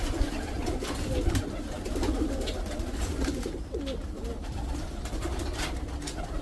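Pet pigeons coo softly and repeatedly in a rolling, bubbling rhythm, close by against a low rumbling background.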